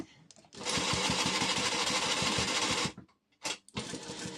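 A sewing machine stitches a blouse hook strip in a fast rhythmic burst of close mechanical clatter lasting a couple of seconds, then stops and restarts briefly.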